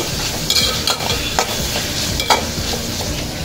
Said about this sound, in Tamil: இந்த அளவுக்கு வதங்கினோன்னா நம்ம தக்காளி சேர்த்துட்டு அப்படியே எல்லாம் கிளறி விட்டு